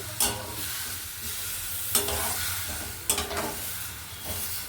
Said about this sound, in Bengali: সমস্ত মশলাকে ভালো করে নাড়িয়ে চাড়িয়ে কষে নিচ্ছি